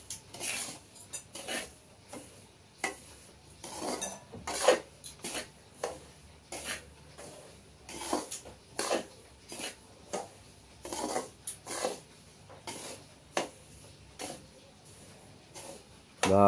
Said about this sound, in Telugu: ఈ విధంగా మనం కలుపుకుంటూ ఫ్రై చేసుకుందాం